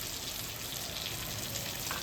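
Chicken pieces fry in oil in a home kitchen for a chilli chicken dish, a steady close sizzle with no pauses or talk.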